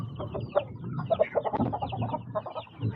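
A young yellow-legged hatch gamefowl stag clucks repeatedly in soft, uneven bursts at close range, with other farmyard chicken sounds mixed in behind.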